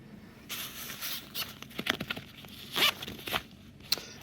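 Zipper on a LowePro 550 AWII camera bag being pulled open, a series of close, rasping zips in short irregular strokes with small rustles between them.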